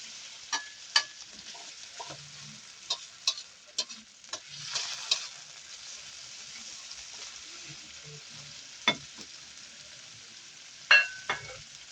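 Tomatoes sautéing in a pan for Kapampangan-style ginisang ampalaya, a faint steady sizzle broken by sharp, irregular clicks and scrapes of stirring.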